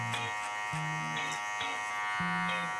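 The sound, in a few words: electric hair clippers with number 2 guard cutting a fade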